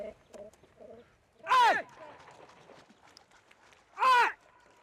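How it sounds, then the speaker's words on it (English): Birds kept by a river fisherman on a raft call out in two loud, harsh bursts a few seconds apart, with softer chatter and low calls between them. "he has to recognize the different calls the birds make."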